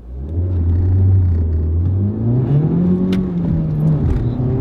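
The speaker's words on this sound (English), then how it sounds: "So let's see how it accelerates." A car engine revs hard under acceleration, its pitch climbing steadily through high RPMs with a loud, continuous mid-range drone and no talking.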